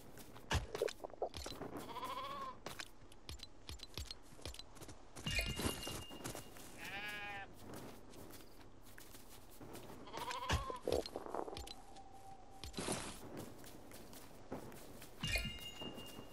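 Sheep in the Lego Fortnite video game bleat repeatedly in short wavering calls around 2, 7 and 10 seconds, mixed with footstep clatter and scattered game effects, with no talking.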